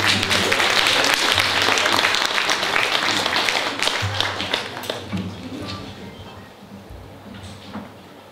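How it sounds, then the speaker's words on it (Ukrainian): An audience applauds after a combined choir and violin ensemble concert, a loud dense burst of many hands clapping that gradually thins and fades toward the end. "Ваші оплески!"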